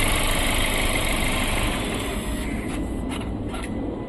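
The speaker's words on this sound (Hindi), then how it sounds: "ये है इसका इंजन का साउंड। ये देख सकते हैं बिल्कुल स्मूथ है" A Kia Seltos engine idles close by after EGR cleaning, with a steady low rumble and a smooth, even hum, no voices.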